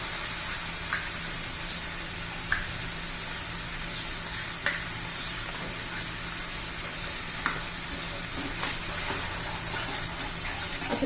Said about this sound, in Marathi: असं दही घातलं ना एकदम एकसारखं हलवत राहायचंय, नाही तर दही फाटतं.